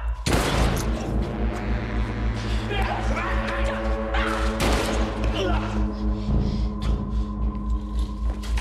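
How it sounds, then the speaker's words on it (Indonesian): A movie shootout plays out in bursts of gunfire and heavy booms, several sharp cracks scattered over a steady low drone, with a voice heard in the mix. "Setelah itu terjadi tembak-menembak."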